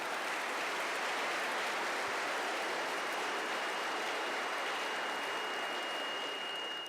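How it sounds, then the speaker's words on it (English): Steady, dense applause from an audience honoring the governor at a university event, a continuous even wash of clapping that holds at a constant level throughout with no voices over it. "Please give him a round of applause."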